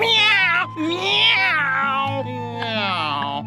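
A cat meows repeatedly in long, drawn-out, wavering cries, loud and close, over a low steady hum.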